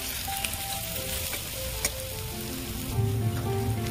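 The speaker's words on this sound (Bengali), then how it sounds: "পেঁয়াজটা আমি লাল লাল করে ভেজে নেব" Onions frying in a pan, a loud continuous sizzle with a crackling hiss throughout, growing slightly stronger toward the end.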